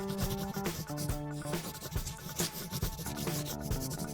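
Colored pencils scribble quickly across paper while Frozen characters are colored in a speed race. The close, continuous scratchy rubbing is dense and rhythmic, with quick strokes and no talking.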